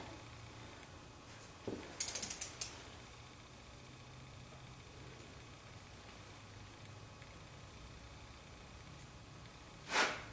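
A ratchet turns in a short burst of quick clicks while cylinder head bolts are tightened on a 1976 Corvette engine, fairly close and alone in a quiet garage, with a single louder clunk near the end.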